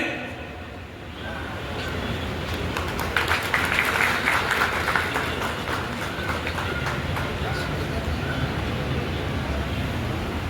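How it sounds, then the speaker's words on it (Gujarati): Audience applause at a community association's annual general meeting in Pardi, a dense, continuous patter of clapping that swells after a quieter opening second and holds steady to the end. "જોરદાર તાળીઓના ગળગડાટથી"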